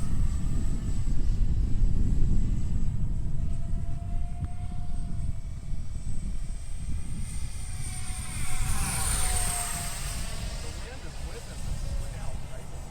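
An X-Fly SU-27 radio-control jet with twin 50mm electric ducted fans makes a flyby, its steady fan whine building and sweeping past with a Doppler shift near the end, loud over constant wind noise outdoors.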